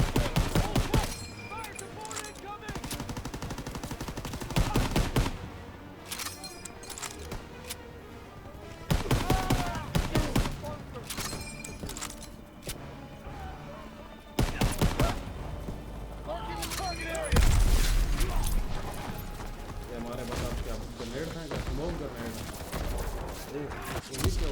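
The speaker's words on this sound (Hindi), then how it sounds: "ये अचानक कितनी फायरिंग कैसे हुई है ये कैसे हुआ अचानक बहुत फायरिंग हुई है" Heavy gunfire from the World War II shooter game Call of Duty WWII: dense volleys of rifle and machine-gun shots, loud clustered bursts over a busy battle din, with a voice talking at times.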